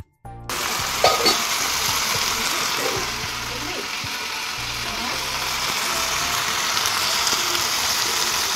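Marinated meat, coated in turmeric, salt, yogurt and a little spice, fries in a pan with cooked-down spice paste, giving a steady broad sizzle with occasional stirring scrapes throughout, close up and fairly loud.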